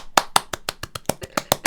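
Close hand clapping, about ten sharp claps in a quick, slightly uneven rhythm over under two seconds, each one crisp and distinct with short gaps between them.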